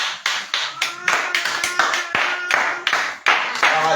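A congregation at an intense evening healing prayer service claps together to acclaim Jesus, a loud, fairly steady run of sharp hand claps with a voice speaking over the clapping.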